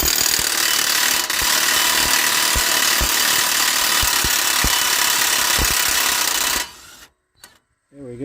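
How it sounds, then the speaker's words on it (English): An impact wrench hammering on the axle nut of a 2012 Chrysler Town & Country, a loud continuous buzzing rattle for several seconds up close, then stopping abruptly, followed by a couple of faint knocks. "So I'm going to use my impact here. Hopefully that'll pull the axle nut loose."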